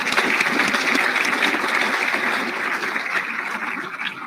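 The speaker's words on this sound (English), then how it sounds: "Can we just get another round of applause for them?" Audience at a ministerial research forum applauds the youth ambassadors, steady broadband clapping sustained throughout at moderate loudness, with a brief spoken word over it.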